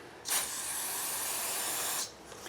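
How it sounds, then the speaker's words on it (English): A single steady spray of carburetor choke cleaner hisses for about two seconds, close and loud, then cuts off, cleaning a Briggs & Stratton lawnmower engine. "I'm just using some carbon choke cleaner"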